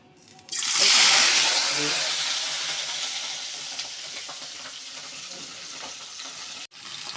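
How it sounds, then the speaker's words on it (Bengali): Broccoli hits hot oil in a kadai with a sudden loud hiss, then settles into a steady, gradually fading sizzle and crackle close by, with a brief break near the end. "তেল গরম হয়ে গেছে, এখন আমি বুকলিগুলি ভেজে নেব।"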